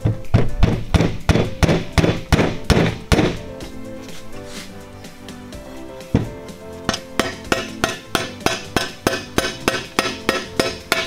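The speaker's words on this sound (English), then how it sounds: "Now we can simply just tap it in with a rubber mallet." A rubber mallet taps a timing chain part into the timing cover of an Evo X engine being built up, giving a run of quick, close, even thuds, then a pause, then another steady series.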